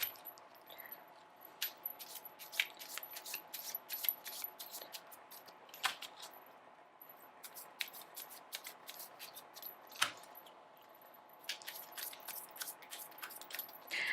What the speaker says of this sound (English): let me just shuffle the cards.